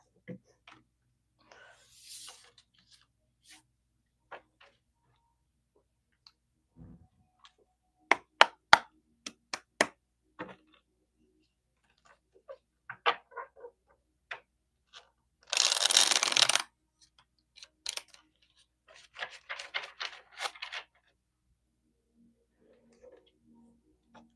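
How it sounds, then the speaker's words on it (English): Tarot cards being shuffled by hand, a few soft riffles and taps scattered through quiet, with one dense burst of rapid card flutter in the middle. "I guess I should probably shuffle, shouldn't I?"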